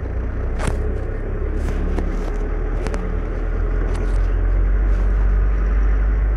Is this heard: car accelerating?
yes